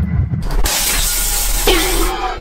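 Lettuce frozen in liquid nitrogen shatters with a bright crackling burst, followed by a steady hiss and clatter of brittle fragments, loud and close without talk.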